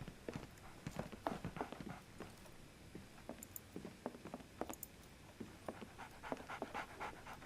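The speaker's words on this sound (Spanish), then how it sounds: "Escucho un perro." A dog pants in the video game Sherlock Holmes: The Awakened, quick soft breaths mixed with light footfall-like clicks, faint against a low game ambience.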